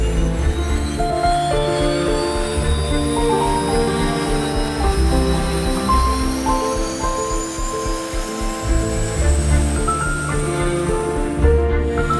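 A Pilatus PC-12 propeller aircraft idles on the ground before takeoff, a loud steady engine drone with a rising high whine, continuous and close.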